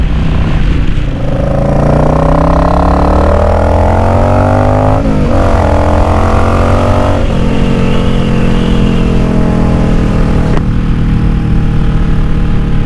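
A motorcycle fitted with a K&N Chrome Top RC-0850 universal air filter and re-jetted Mikuni carburetor runs loud and close, its engine note rising and falling through several revs with a steady throbbing idle underneath.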